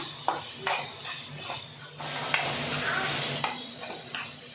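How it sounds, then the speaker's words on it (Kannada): Mint chutney ingredients frying in a pan with salt, a steady close sizzle broken by a few scraping stirs of a spoon against the pan, with no talking. "ಇದು ಸ್ವಲ್ಪ ಚೆನ್ನಾಗಿ ಫ್ರೈ ಆಗಬೇಕು"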